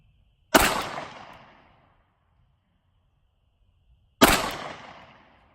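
Glock 48 pistol fired at a shooting range, two loud sharp single shots about three and a half seconds apart, each followed by a short echoing tail over quiet background.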